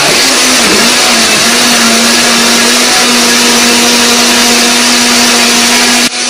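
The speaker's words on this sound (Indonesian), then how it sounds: "Setelah itu kita akan blender lagi." A kitchen blender whirs steadily as it purees chili peppers with eggs, a loud continuous motor drone with a constant pitch that cuts off abruptly at the end.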